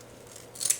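A single sharp scissor snip clips folded ribbon into small tubes for a fall wreath, close and brief after a quiet pause, with no voices.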